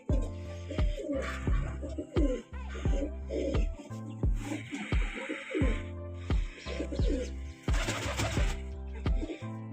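Pigeons of a Punjabi breed coo repeatedly nearby in a steady, throaty rhythm, several birds overlapping with soft chirps.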